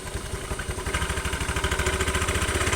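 A Honda Beat injection scooter with worn rollers is revved up close, its engine rising to a fast, steady pulsing with a rattling knock running through it and no talking.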